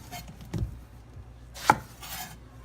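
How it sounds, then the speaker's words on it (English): A kitchen knife cuts through the ends of an eggplant on a cutting board, giving two or three crisp, separate chops with quiet pauses between them. "now what I'm going to do, I'm going to trim the ends"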